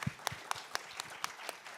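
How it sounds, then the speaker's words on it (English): Applause for the moderator and speakers at a fiscal policy conference: sparse, evenly spaced claps land about four times a second, crisp but fairly quiet, as if from a small group. "Let's give another big round of applause to our moderator and speakers"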